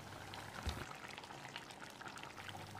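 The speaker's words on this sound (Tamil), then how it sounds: "இப்போ நம்ம அரைச்ச பேஸ்ட்டை ஊற்றிடலாம்." Ground spice paste poured into a simmering dry fish curry with brinjal and potato, giving a soft, steady bubbling and liquid pour with no talk.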